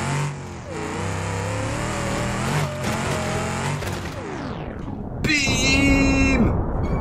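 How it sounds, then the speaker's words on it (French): A car engine in BeamNG.drive revs hard with a rising, gritty note, then winds down, followed by a sharp crash and a higher whining rev, loud and close with no talk. "vous avez vu que les sons de moteur, depuis que j'ai fait des saisons sur BeamNG,"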